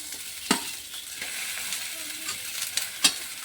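Green chilies and tomato frying in a pan, a steady soft sizzle with occasional sharper crackles and stirring scrapes, no talk.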